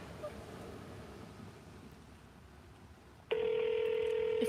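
An outgoing phone call begins with a steady tone entering abruptly near the end and holding loud and even, following several seconds of faint hiss and low rumble.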